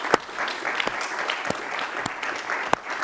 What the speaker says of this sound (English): With that, great applause